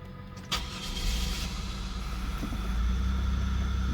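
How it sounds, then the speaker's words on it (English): The fuel pump of a 2001 Buick LeSabre buzzes faintly from the back of the car as the key is cycled, a short click followed by a steady low hum that holds on without any talking. "I can hear the fuel pump buzzing in the back of the car now."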